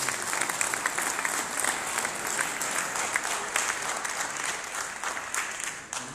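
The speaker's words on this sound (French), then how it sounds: "on peut peut-être l'applaudir" An audience at an evening debate on towns in transition applauds steadily, dense clapping from a crowd in a room sustained throughout, with no voices over it.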